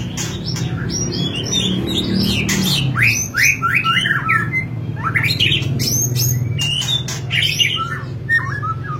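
Loud, busy birdsong from a magpie robin, with repeated squawks and bright chirping calls, overlapping phrases against a steady low background rumble.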